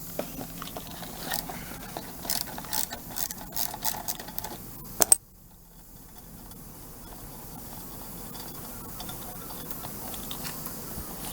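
A hand ratchet loosens a nut on a Dodge Ram condenser. Rapid, close clicking comes in bursts for about five seconds, then a sharp clunk, followed by a low, steady background hum.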